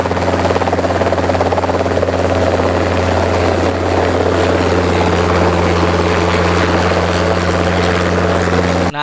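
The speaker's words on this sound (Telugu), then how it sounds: "హెలికాప్టర్ కు గట్టికి మిషన్ తోటి భూమిలో ఏముందో పరిచవాటుడు" A helicopter flying a helimagnetic survey over Mannavaripalli in Nagarkurnool district for the SLBC tunnel drones loudly and steadily, its rotor beat and engine hum close and continuous for the whole stretch, with no talk.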